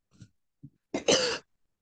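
A few small coughs, then a louder, longer throat-clearing cough, close and alone during a casual Indonesian-language student club chat.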